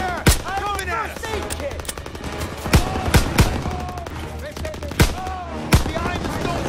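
Rapid automatic rifle fire and scattered single gunshots ring out in a World War II Call of Duty campaign battle, loud and dense throughout, with sharp cracks standing out above continuous combat noise and voices.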